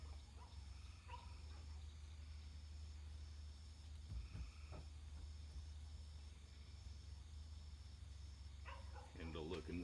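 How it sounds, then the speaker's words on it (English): A dog barks faintly in the background of a quiet indoor space where a hydroponic flood-and-drain system is being assembled from PVC ball valves. A few short bursts of barking rise over a low steady hum. "Sorry about the dog in the background."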